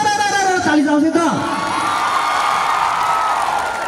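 A crowd at a live music performance during Karnali Expo in Nepal cheers and whoops for the performers, a loud sustained roar with a shouting voice rising above it near the start.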